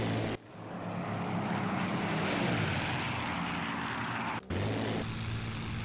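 A propeller aircraft engine drones loud and continuous in IL-2 Sturmovik, a steady roar that cuts out briefly twice before resuming at full strength.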